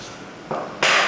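A pen or marker scrapes across a board while drawing a table, giving two short, close strokes of dry rasping, the second louder and brighter.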